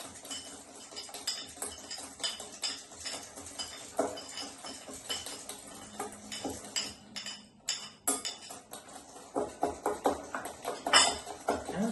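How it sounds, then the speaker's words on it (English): A utensil clinks and scrapes in a bowl while sugar and vanilla sugar are mixed for a Swiss roll, quick uneven taps and rattles close by, fairly soft, with no talk. "we will keep mixing until it has a bit of a yellow creamy color"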